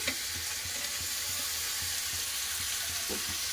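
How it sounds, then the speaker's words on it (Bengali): Ginger paste, peas and tomato frying together in a pan for moong dal, a steady close sizzle with soft scraping stirs and light taps of a utensil, no voices. "সব একসাথে ভালো করে ভেজে নেব"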